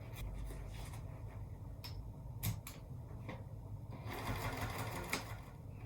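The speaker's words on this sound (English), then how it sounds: "I'm just going to stitch seam to seam" A sewing machine runs close up, stitching seam to seam on the panels of a zippered cosmetic bag. The motor hums steadily with a brief pause and restart, and a brighter whirring burst comes near the end.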